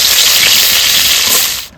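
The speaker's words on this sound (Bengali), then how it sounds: "ডালের বড়িটা প্রথমে ভেজে" Dried lentil dumplings (dal bori) frying in hot oil for shukto, a loud close hiss and sizzle that holds steady and then cuts off.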